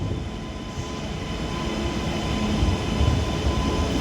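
Class 331 electric multiple unit departing Liverpool Lime Street empty toward a depot, a steady rumbling train drone with low wheel noise under the station roof, gradually growing slightly louder.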